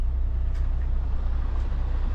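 A truck pulling a trailer rolls past on a village road, a steady low engine rumble and tyre roar heard from inside a moving vehicle, continuous and fairly loud with no talk.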